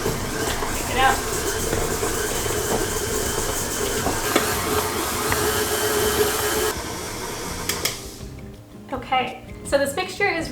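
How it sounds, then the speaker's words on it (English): Electric hand mixer creaming butter and sugar for jam thumbprint cookies, a steady whirring drone for about seven seconds that cuts off abruptly, followed by clattering and scraping of the bowl. "Now we're gonna mix this until it's nice and creamy."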